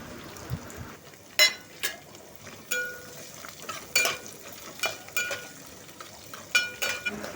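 Finely chopped onion frying in a pan with ginger, green chilli and garlic for Hakka noodles, soft steady sizzle broken by repeated stirring scrapes and light clinks of a spoon against the pan.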